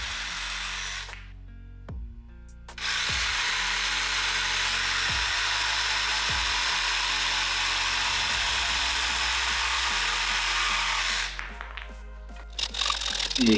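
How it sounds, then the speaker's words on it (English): A power saw cuts through an old scrap wooden deck spindle, a loud steady whine lasting several seconds, bracketed by brief motor spin-up and wind-down with clicks at either end. "now here I'm cutting an old scrap piece of deck spindle to make the wing hubs."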